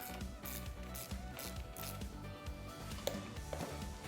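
A ratchet clicks rhythmically while tightening the fork bolts on a dirt bike, giving rapid, close, repeated clicking strokes with a few sharper metallic knocks.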